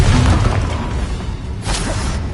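The Confringo fire spell explodes in Hogwarts Legacy with a loud, heavy boom. A rumbling blast roils and crackles and then gives way to a brief swooshing burst, with no talk.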